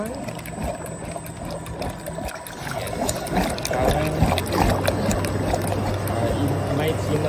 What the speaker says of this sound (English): I'm gonna turn the refrigeration on.